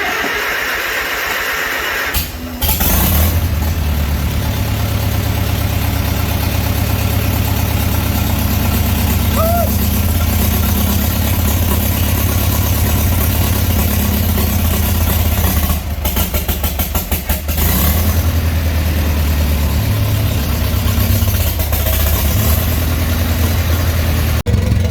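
Old Farmall Super M tractor engine idling, a loud steady low chugging rumble running close and continuous, with a brief dip and a few uneven beats partway through.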